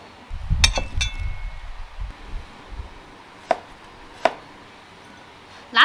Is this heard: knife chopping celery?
yes